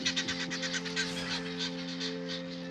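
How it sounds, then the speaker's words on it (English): Geese honking in the English countryside, a run of rapid repeated calls at moderate distance over a steady mechanical hum, fading slightly toward the end. "the hens with their young chicks, the geese."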